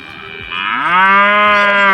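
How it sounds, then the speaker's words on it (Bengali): A cow in a herd standing on a road near Bhatra Bil in Malda lets out one loud, close, drawn-out moo that rises and holds for over a second, with nothing else heard. "গরুরা আমাদেরকে তাদের গান শোনালো।"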